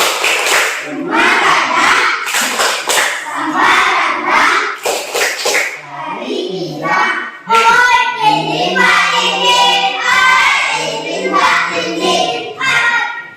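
Classroom of children performing the Rana Minang clapping routine, rhythmic bursts of hand claps alternating with chanted young voices, loud and close, with short pauses between phrases.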